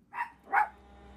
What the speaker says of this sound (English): hearing the puppy bark